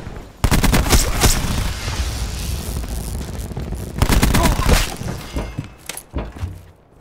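Rapid bursts of automatic gunfire from the shooter game Black Ops 4, loud and close, coming in dense volleys with a brief pause between them and fading toward the end.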